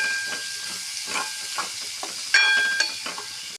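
Two large finely chopped onions fry and soften in a pan for pav bhaji, hissing and sizzling steadily with occasional louder bursts as they are stirred.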